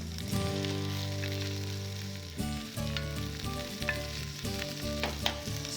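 Onions and fennel frying in a hot pan before the mussels go in, giving a steady, loud, close sizzle that runs throughout, with a few clinks and stirring bumps on top.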